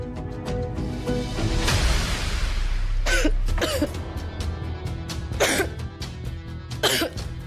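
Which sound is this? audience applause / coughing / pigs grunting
coughing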